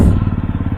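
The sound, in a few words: motorcycle engine running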